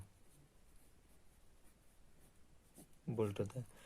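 Short scratchy strokes of writing on a board during a physics lesson stay faint and sparse before a voice speaks briefly near the end.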